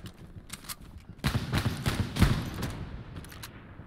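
Several sharp gunshot bursts crack out in quick succession in the video game Hell Let Loose, a dense volley in the middle with lighter isolated shots before and after.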